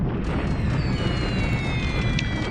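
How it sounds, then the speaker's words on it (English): Rumbling bomb explosions from a Pacific war strategy game play as a steady, loud roar, with faint whistling tones sliding overhead. No one speaks. "More bombing."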